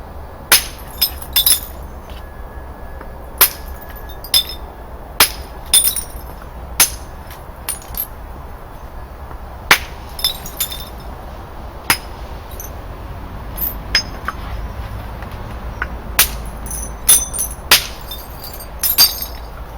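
Flint knapping on a Neolithic flint axe head gives crisp, glassy clinks and cracks as flakes are struck off, coming as irregular close taps with short gaps over a faint background hiss.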